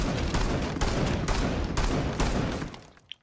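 Alibi's shotgun firing in Rainbow Six, heavy repeated blasts at a steady rhythm of roughly one shot every half second, loud and close, tailing off near the end with a small metallic click.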